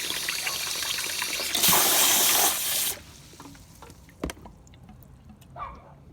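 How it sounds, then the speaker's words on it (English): Water rushes loudly through an aquarium cascade filter being cleaned for a tilapia tank, a dense hiss for about a second before dropping to a soft trickle with occasional knocks. "now it looks like the water is flowing through there unimpeded."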